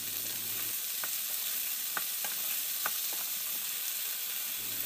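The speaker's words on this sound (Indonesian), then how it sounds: "Setelah itu tambahkan bawang bombay, kentang dan wortel, kita tumis hingga layu terlebih dahulu" Onion, potato and carrot sautéed in a pan over medium-low heat for chicken wing curry, a steady broad sizzle with light, irregular scraping ticks from the spatula throughout.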